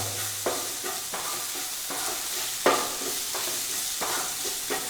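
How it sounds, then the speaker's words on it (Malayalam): A spoon stirs Kashmiri chilli powder, coriander powder and garam masala frying in a pan, scraping in repeated strokes over a steady close sizzle, with no talk. "ഇനി നമുക്ക് നന്നായിട്ട് ഇളക്കി കൊടുക്കാം."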